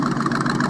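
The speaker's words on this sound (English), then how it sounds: "put it on an engine stand, and we fired it up. It sounded just like this." A car engine fired up on an engine stand, idling with a continuous rough, throbbing rumble, loud and close with no other sounds.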